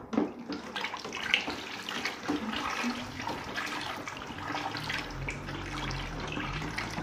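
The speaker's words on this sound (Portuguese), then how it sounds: "E agora, já mexendo, nós vamos estar adicionando os 5 litros de óleo." Five litres of cooking oil poured steadily into a coconut bar soap mixture while it is stirred, a continuous close liquid splashing and gurgling rush with a slight low rumble building toward the end, no voices.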